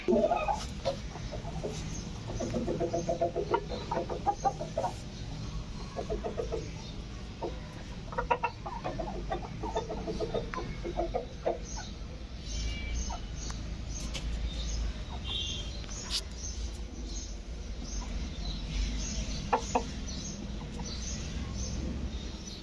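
Native village chickens cluck and murmur nearby in a backyard, repeated soft clucks and occasional squawks scattered over steady outdoor background noise.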